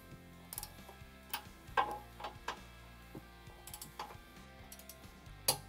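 Nuts on a B&W Continuum weight distribution hitch are tightened with a wrench, giving quiet, scattered metallic clicks and ticks in an irregular rhythm, faint and close with no talking.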